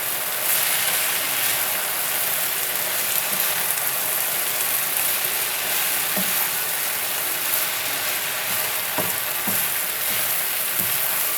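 Pangas fish eggs go into a pan with mixed vegetables and get stirred, producing a loud, continuous sizzle with scraping stir strokes and occasional knocks throughout.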